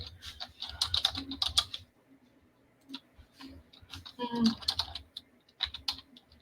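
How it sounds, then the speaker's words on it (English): Bursts of typing on a computer keyboard during a tech podcast, clustered rapid clicks in two spells separated by a pause, fairly close, with a voice speaking briefly in between. "What are you typing?"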